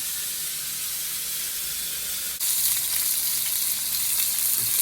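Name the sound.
steak frying in a pan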